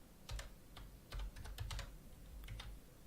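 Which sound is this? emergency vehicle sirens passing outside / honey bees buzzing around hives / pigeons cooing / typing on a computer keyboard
typing on a computer keyboard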